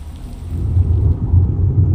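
Rain and rolling thunder in the video game Ark Survival Ascended, a loud low rumble swelling over steady rainfall.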